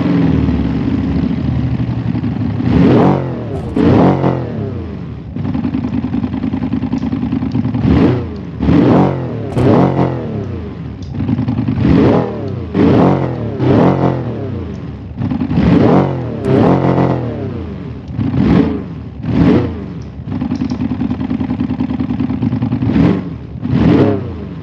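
A car engine in BeamNG revs up and down over and over, close and loud, each sharp climb falling back to a steady idle between bursts, with no talk.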